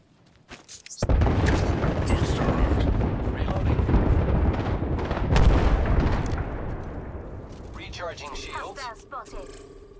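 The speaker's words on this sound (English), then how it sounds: "there's an airstrike on our position" Airstrike explosions in the Apex Legends video game erupt as a sustained barrage of heavy booms and rumbling blasts that build loudly, then fade away with scattered game effects near the end.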